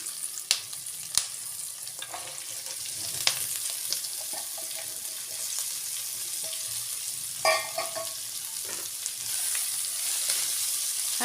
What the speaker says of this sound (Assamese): এতিয়া ইয়াত মই শাকখিনি দি দিম।